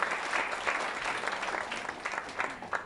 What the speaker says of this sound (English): Can we have another round of applause for our crypto panel?